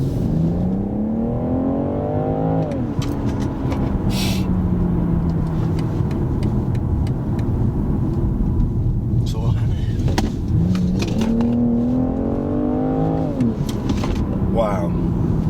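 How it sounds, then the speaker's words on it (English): A BMW with a 3-litre engine drives along, its engine rising and falling through gear changes with two clear revving climbs, heard from inside the car while people talk over it. "What litre is this engine? It's a 3 litre."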